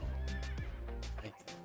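Horse in the Crowfall video game neighing, a short loud whinny with a shaky descending pitch, followed by a brief snort and hoof clatter, no talking.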